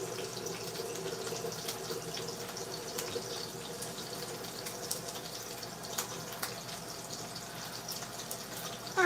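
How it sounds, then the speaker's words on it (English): Water pours from a tap into a pan of toasted couscous, a steady close splashing and trickling stream with a few drips, running alone for several seconds before ending abruptly. "So we toast the couscous, add water,"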